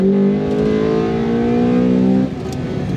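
A 1992 Honda Integra XSi engine revs hard into its VTEC range, a loud, steady rising drone with strong harmonics that holds for about two seconds and then drops off as the throttle eases.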